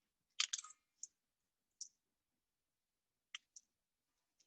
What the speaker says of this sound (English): I'm gonna peel our eggs.